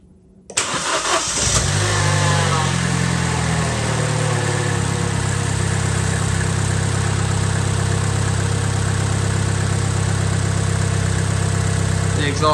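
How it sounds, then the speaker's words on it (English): A 1.2-litre petrol Vauxhall Corsa D engine cranks briefly and catches, then settles into a steady, loud, close idle that holds for the rest of the clip, with a slight exhaust blow. "run the engine up to temperature"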